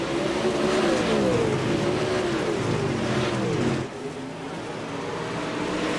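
Dirt track race cars roar around the oval at Pevely in a steady, loud engine drone with shifting pitch as the pack passes, easing slightly near the end; no talk over it.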